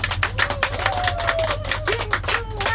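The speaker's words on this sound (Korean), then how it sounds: "모두 큰 박수로 맞이해 주시면 고맙겠습니다." A crowd at a candlelight rally in Seongju opposing the THAAD deployment claps in quick rhythmic bursts. Raised voices call out together over the clapping throughout.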